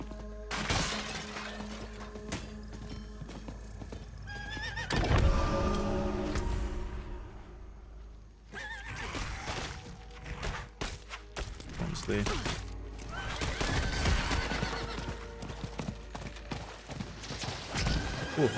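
A horse in the video game Diablo IV gallops with steady clip-clop hoofbeats and whinnies, with crashing, breaking impacts and game effects around it, loud and close throughout.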